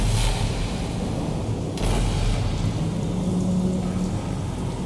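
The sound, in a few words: rain in video game Alien: Isolation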